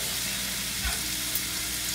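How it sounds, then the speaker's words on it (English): Cashew chicken stir-frying in a pan, a steady, dense sizzle with a brief low knock midway and no voices. "So after a couple minutes of stir frying"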